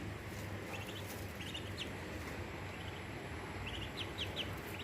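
Muscovy ducklings chirp in short, faint, high bursts that come in small clusters, over a steady low hum and broadband background noise.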